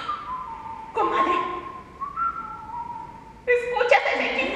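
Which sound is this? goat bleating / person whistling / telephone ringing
person whistling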